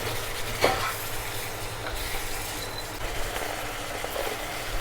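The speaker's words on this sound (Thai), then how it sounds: "ผัดไปเลยครับ เราจะเอาตับสุกนะครับวันนี้" Liver stir-fried with holy basil and dried chili, giving a continuous dense sizzle with rough stirring and scraping, loud and close, with no voices.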